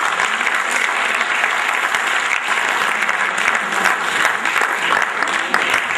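Loud, continuous applause from a large audience at a national HR summit at an institute, dense clapping holding steady throughout without talk.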